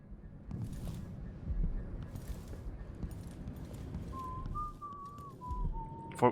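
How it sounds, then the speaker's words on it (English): A short whistled tune rises in the second half of a scene from the video game Dishonored 2, clear but moderate, over a low rumbling ambience with soft clopping and shuffling sounds. "I know people who really hate the sound of whistling"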